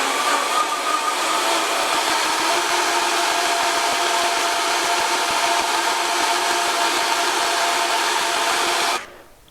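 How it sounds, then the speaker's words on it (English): Blender running on high speed through fermented hot sauce, a loud, steady whirring roar held for several seconds before cutting off abruptly near the end. "I'm gonna let this blend for about a minute on high speed."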